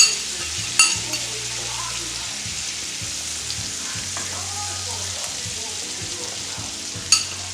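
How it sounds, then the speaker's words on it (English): Vegan scallops cook in sauce in a pan, giving a steady, close sizzle and bubble with a low hum beneath and a couple of sharp clinks near the start and end. "put my sauce over top of them and just let them cook in the sauce for a few minutes"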